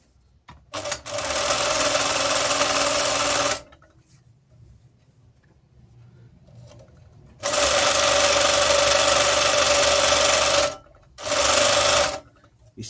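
An FN10 overlock sewing machine runs in close, loud, steady bursts: one of about three seconds, then a quiet gap, then a longer run of about three seconds and a short final burst.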